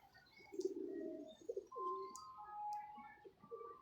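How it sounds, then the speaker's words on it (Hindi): A breeding pair of pigeons cooing softly in a loft, a few low throaty coos and rolling calls in close succession, quiet and near, with faint chirps in the background. "ये हमारे रिज़ल्टर कबूतर हैं और बहुत ही कमाल कबूतर है।"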